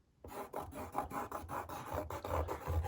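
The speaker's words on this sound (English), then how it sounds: "Back of the brush, back of the brush. Get some scrapes in there, get some shapes." The back of a paintbrush scrapes through paint on a canvas, making a steady rasping rub in short repeated strokes about five per second, close and continuous for a few seconds, with no talking.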